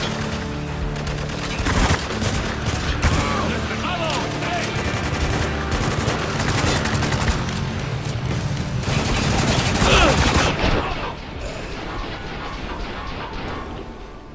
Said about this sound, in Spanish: Parece que se oye un tiroteo. Ahí delante.